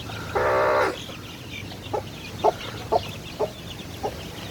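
Native chickens on a farm give one loud drawn-out squawk, then a run of short, evenly spaced clucks over a steady outdoor background.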